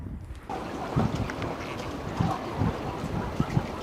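Strong wind blowing along a sea coast near a harbour, roaring steadily as a broad rush with gusty low rumbles and buffeting against the microphone, water churning faintly beneath, with no voices.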